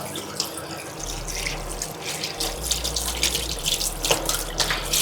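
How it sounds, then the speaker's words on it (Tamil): Water running from a wash basin tap on a houseboat while hands are washed, a steady close splashing stream with small drips and bumps throughout, no talking. "கொஞ்சம் கையை கழுவிக்கிறோம்"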